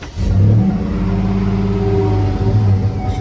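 A 2004 GMC Yukon with a newly fitted muffler starts and revs up, a loud, steady low engine roar that holds high idle throughout, close by and with no voices.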